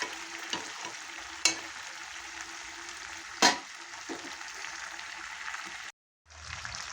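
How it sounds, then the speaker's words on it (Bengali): Fried potatoes are stirred into a chicken curry in a pan: a soft sizzle with a few sharp spoon scrapes and knocks, then a brief silence before the sizzling resumes. "আলু দিয়ে নেড়ে চেড়ে নিলাম।"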